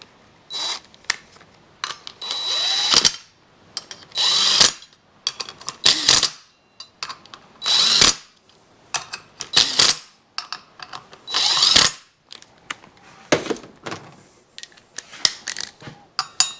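Hand tools clatter and click while a sprocket is fitted onto a Yamaha 250MX wheel with a used rim, fresh tire and rim locks, giving repeated short metallic bursts in a busy, uneven rhythm, close and fairly loud with no talk.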